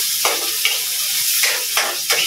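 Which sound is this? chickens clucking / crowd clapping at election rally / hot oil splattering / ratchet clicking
hot oil splattering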